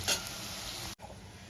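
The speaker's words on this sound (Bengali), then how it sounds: "এবার আমি আলুগুলোকেও লাল লাল করে ভেজে তুলে নেব" Potatoes fry in hot oil with a steady close sizzle and a scrape of stirring near the start, then a brief cut before the sizzling resumes.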